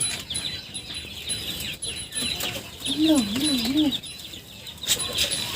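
One-month-old chickens in a coop lit by a 60-watt lamp give a short wavering peep over a low background of rustling and faint chatter.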